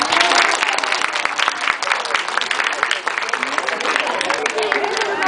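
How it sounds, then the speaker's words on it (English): An audience claps together at a live bird show at Six Flags Discovery Kingdom, a dense, loud burst of steady clapping with crowd murmur that runs the whole time. "You guys can clap for them."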